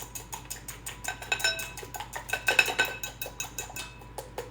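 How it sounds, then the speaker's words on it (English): Eggs are whisked briskly in a bowl, a rapid run of metallic clinks and taps that grows busier and louder in the middle before easing off. "I'm going to whisk this."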